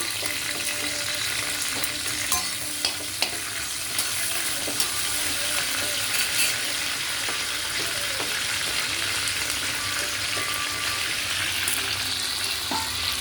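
Curry leaves hit hot ginger-garlic paste in a pan for mutton curry and sizzle loudly and steadily, a close, dense frying crackle with faint stirring scrapes and no talk.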